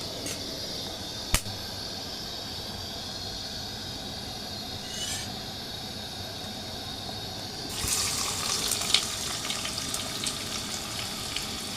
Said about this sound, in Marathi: ते थोडेसे गरम झाल्यानंतर त्याच्यामध्ये टाकायचं आहे उभा चिरलेला कांदा